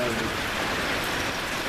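Heavy rain pounds steadily on a porch roof in Kentucky or Tennessee, a dense, loud, unbroken roar of drops close overhead with no pause.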